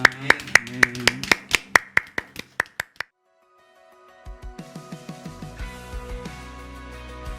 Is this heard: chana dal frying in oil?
no